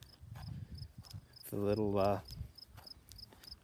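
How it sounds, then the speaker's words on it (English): Steady high-pitched cricket chirps pulse in the background while someone briefly speaks over them. "You can hear the crickets cricketing."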